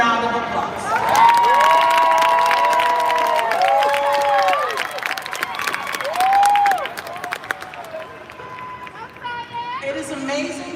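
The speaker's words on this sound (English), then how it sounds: "So let's pause and give them a round of applause." At a 2022 high school graduation ceremony the audience cheers, whoops and shouts from several voices over steady clapping, loud and lively at first, then thinning out.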